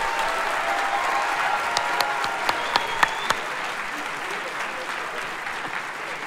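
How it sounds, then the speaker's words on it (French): An audience at a live debate contest claps steadily, a close, even wash of applause with a few sharper individual claps standing out for several seconds. "bravo, vous pouvez les applaudir"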